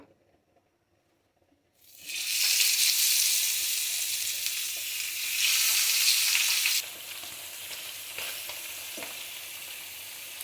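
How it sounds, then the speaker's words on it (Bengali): Large pabda fish fry in hot oil in a pan, a loud, dense sizzle bursting in after a moment of silence and then easing to a steadier crackle. "বড় বড় পাবদা মাছ ভাজা হয়ে গেছে"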